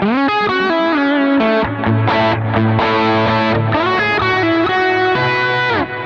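Electric guitar with the JET Pedals Lamb overdrive switched off plays a quick melodic phrase of single notes with slides, slightly gritty amp tone but less driven, loud and continuous without speech.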